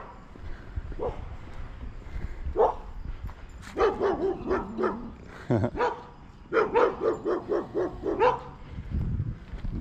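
Several dogs bark during an evening neighbourhood walk in Lewiston, Maine, with scattered single barks early, then bursts of rapid repeated barking at moderate distance, and no talking.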